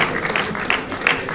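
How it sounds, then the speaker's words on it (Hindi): Audience applause at an agricultural research council seminar celebrating its 36th foundation day: a dense burst of clapping from a crowd indoors, steady and fairly loud, with no talk over it. "जोरदार तालियां"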